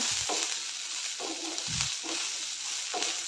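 Turmeric being stirred into roasted cluster beans (guar) in a pan, steady soft frying hiss broken by four or five rhythmic spatula scrapes and knocks close by.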